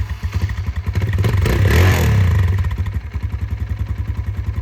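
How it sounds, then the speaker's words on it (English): A Kawasaki KLX140 dirt bike engine runs close and loud after a fresh oil change, a steady rapid single-cylinder putter that swells into a brief rev in the middle before settling back to an even idle. "Time to start up the bike."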